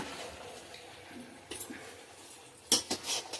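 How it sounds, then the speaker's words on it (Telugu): A spoon clinks against a pan while stirring spices and peanut powder into a mixed vegetable curry, a few soft scrapes followed by a louder cluster of metallic taps near the end. "ఇప్పుడు ఒకసారి బాగా కలిపేసుకుందాం."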